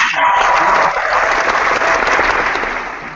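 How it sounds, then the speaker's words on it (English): A crowd at a podcast launch party claps for a prize winner, a thick burst of applause that stays strong, then thins and fades toward the end. "She had to be clapped for."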